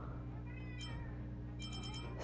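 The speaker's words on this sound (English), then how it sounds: "Sorry about the cat." A house cat meows a few times in the background, faint behind a steady game-stream hum with no talking.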